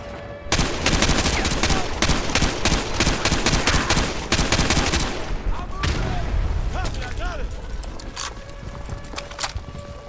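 Heavy automatic gunfire in a Modern Warfare 2 Remastered firefight, with dense rapid bursts for several seconds, then thinning to scattered shots and echoes, with a voice speaking briefly over it.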